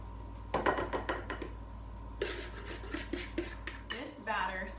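Lemon zucchini cake batter being mixed in a bowl, with soft scraping and light clinks of a utensil against the bowl in short bursts, close and moderately quiet.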